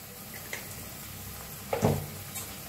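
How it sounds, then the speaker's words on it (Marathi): Masala roasting in a pan with turmeric added, a soft steady sizzle under light stirring, with a brief louder scrape or clatter partway through. "हळद टाकून बी छान असं भाजून घेऊया।"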